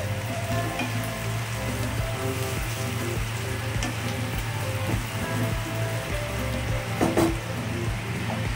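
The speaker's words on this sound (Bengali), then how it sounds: "কটা কাঁচা লঙ্কা আমি এর মধ্যে দিয়ে দিলাম। দিয়ে আমি কষিয়ে নিচ্ছি।" Green chillies fry in hot oil for rui fish tel chochori, giving a steady, quiet sizzle with a low hum beneath and a few faint clinks.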